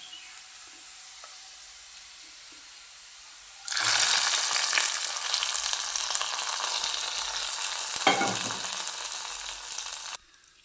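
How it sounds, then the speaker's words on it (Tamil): Hot oil tempering sizzles loudly as it is poured into spinach gravy, a sudden burst of crackling frying that holds steady for several seconds before cutting off. "இப்போ அப்படியே எடுத்து இதை வந்து நம்ம கீரையில் ஊற்றிடுவோம்."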